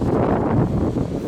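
Strong wind on a March evening in Alanya, Turkey, roars as loud, unbroken rumbling buffeting with gusty swells across the whole moment.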